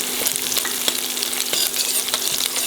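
Chopped garlic with mustard seeds frying in a pan, a steady broadband sizzle with faint scrapes and taps of stirring spread across it, close and constant without any voices.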